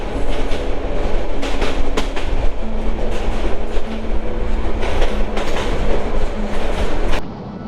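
Cox's Bazar Express rolling through Laksam junction, with loud continuous rumble and rhythmic clickety-clack of wheels over rail joints, fading slightly at the close.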